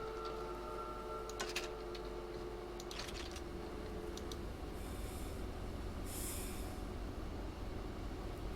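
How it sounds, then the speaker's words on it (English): A train in the Choo-Choo Charles video game rumbles steadily with a low, continuous rolling drone, plus metallic clanks and brief hissing bursts, with no talk. "Yo, I'm on the train."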